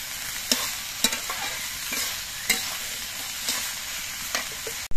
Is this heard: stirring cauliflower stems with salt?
yes